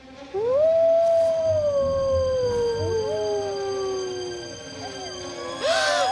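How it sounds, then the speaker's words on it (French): Wolves in an animated cartoon howling, long rising and falling wails from several animals overlapping, loud and close, with a brief voice at the end. "Les loups."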